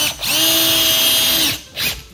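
A power drill drives a 1¼-inch coarse drywall screw through drywall into a wall stud, giving a loud close whine for about a second and a half, then a brief second burst.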